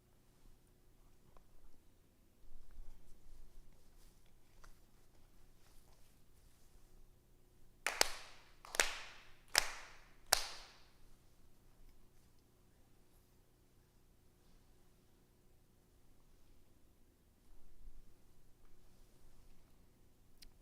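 Four sharp ritual hand claps in steady succession ring out in a quiet hall during a Konko memorial service, separated by brief pauses and followed by near silence.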